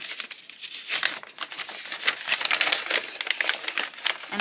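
Wrapping paper crinkles and tears as an advent calendar gift is carefully opened, a close, continuous rustling and crackling with small sharp rips and no voices.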